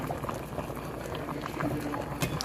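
Mushroom sauce simmering in a pan, a close, even bubbling and popping that holds steady throughout, with a couple of brief utensil clicks near the end and no talking.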